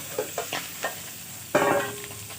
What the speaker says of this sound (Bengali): পটল দিয়েও ভাজছি।